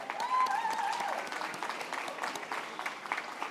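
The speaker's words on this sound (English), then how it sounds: "A big round of applause to all of you guys." Applause from a ceremony audience celebrating new medical interns, fellows and residents at a hospital white coat ceremony, a sustained wash of many hands clapping that slowly thins out, with faint voices mixed in.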